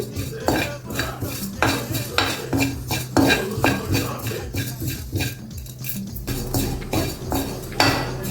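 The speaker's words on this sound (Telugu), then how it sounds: "ఇప్పుడు ఇందులో మనం రెండు స్పూన్లు నువ్వులు వేసుకుందాం ఇవి తొందరగా వేగుతాయండి జాగ్రత్తగా దగ్గర నుండి వేయించుకోండి" Two spoons of sesame seeds roasting in a pan for bitter gourd podi, stirred with a spoon: repeated metallic scrapes and clinks against the pan over a soft, steady crackle, close and fairly loud.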